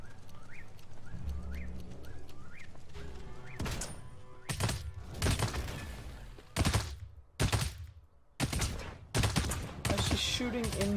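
Bursts of gunfire in a team-based video game, with an Engineer character defending a zone, arrive as dense broadband volleys about every second, loud and close, after a stretch of quieter ambient game sound.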